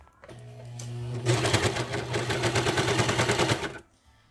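A sewing machine stitches a leggings waistband in one continuous, loud, rapid run of about two and a half seconds, starting after a brief lead-in and stopping abruptly.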